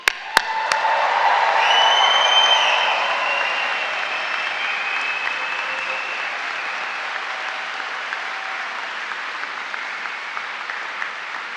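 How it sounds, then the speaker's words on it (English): A graduation ceremony audience in a hall cheers and applauds in practice, a burst of clapping and shouting that swells for a couple of seconds then fades into a softer sustained murmur of applause. "Let's have a quick practice with a quick cheer and a quick shout."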